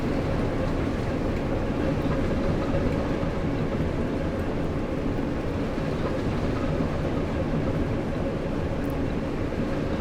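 Great Western diesel locomotive running in the Train Sim World 2 video game, a steady loud low engine rumble with rolling track noise that holds without a break throughout.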